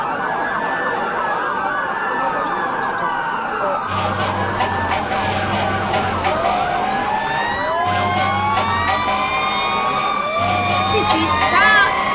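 Fire engine siren wailing in a Minecraft game, its rising and falling tones looping steadily throughout alongside other overlapping siren wails and a pulsing low horn, loud and continuous under faint background noise.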